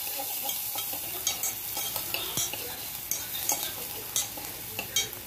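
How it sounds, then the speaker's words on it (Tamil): Garlic and onion sautéing in butter in a pan for vegetable soup: a steady close sizzle with repeated scraping stirs of a utensil against the pan, no talking. "கொஞ்சம் பட்டரில் அந்த பூண்டு வந்து நல்லா வதங்கணும்"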